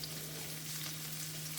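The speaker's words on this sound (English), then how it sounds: "I am going to soften all of these together in the pan." Vegetables softening together in a pan for shakshuka, a steady, faint frying sizzle heard close, with a constant low hum beneath it and no talking.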